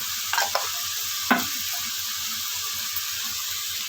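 Salt and turmeric get mixed into a spinach and onion dish in a pan, with a low continuous sizzle, a couple of quick scrapes near the start and one firmer knock of the spoon.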